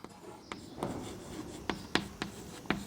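Pen on paper writes out a physics solution, soft scratchy strokes with light taps as letters are formed, close and quiet with no voices.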